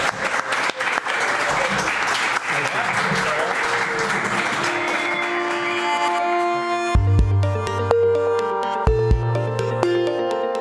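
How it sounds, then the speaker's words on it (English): An audience gives podcast guests a loud round of applause that fades after several seconds into plain music with piano-like notes. "But these guys, a big round of applause"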